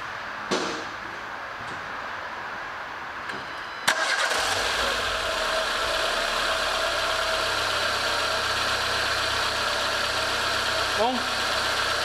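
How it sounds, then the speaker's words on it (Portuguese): A 2015 Renault Logan engine cranks briefly and catches after a timing belt replacement, then settles into a steady, close idle hum that continues to the end. "a gente vai ali e vai dar partida nesse carro e escutar como é que ficou o som do motor"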